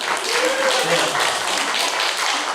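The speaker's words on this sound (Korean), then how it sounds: "우리 박수 한번 다시 한번" Congregation applauding during a Sunday church service, a steady wash of clapping that stays dense and even for its whole length with no voice standing out above it.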